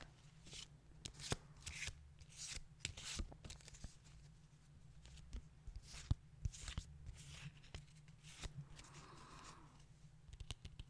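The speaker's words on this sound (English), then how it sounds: "rest upon the shuffling sounds again" Tarot cards are shuffled and riffled in quick repeated bursts, soft and close, with a low steady hum underneath.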